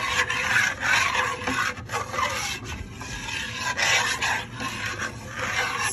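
Custard filling for a Samoan pineapple pie gets stirred up close, giving a steady scraping, swishing rub against the bowl with uneven rhythm and a few brief dips, and no talking over it.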